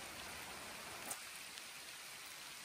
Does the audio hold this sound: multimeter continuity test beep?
no